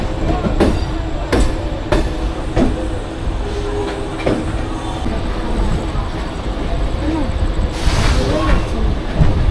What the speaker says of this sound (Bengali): এই হাওড়া স্টেশনে ঢুকতে গেলে ট্রেনটা এতটাই স্লো হয়ে যায়